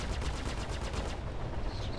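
Rapid automatic gunfire from a machine gun in a multicrew space combat video game, a continuous dense burst of shots rattling steadily for the full two seconds, loud and close with no talk over it.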